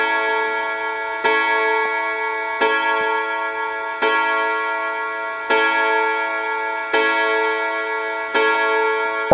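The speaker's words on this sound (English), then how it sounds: "That clank as it was chiming there is the rack dropping into position ready to execute this part of the chime cycle." A Westminster chime hat clock strikes repeated rich metallic chime tones, about seven evenly spaced strikes that each ring out and decay, loud and close with a mechanical clank as each note sounds.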